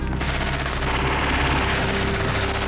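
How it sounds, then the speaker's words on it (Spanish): A sustained burst of rapid gunfire from an indoor action-film shootout rattles loud and dense, with repeated shots blurring into one continuous, booming fusillade. "La ráfaga de disparos en espacios cerrados, interpretada como una danza de la muerte."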